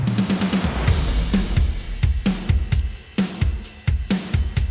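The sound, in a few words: drum kit with bright processing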